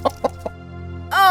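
A rooster in a children's bedtime story gives three quick, separate clucks before a louder drawn-out call begins, close and clear against a quiet background.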